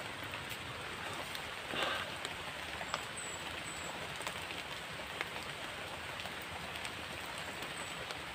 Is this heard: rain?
yes